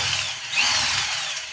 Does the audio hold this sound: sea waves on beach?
no